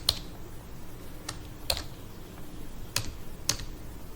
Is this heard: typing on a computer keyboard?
yes